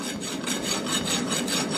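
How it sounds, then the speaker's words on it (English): A farrier's rasp files a heated hammer drift in a forge shop, a loud, close, continuous rhythmic scraping in quick back-and-forth strokes. "I'm going to go ahead and take a Farrier's rasp."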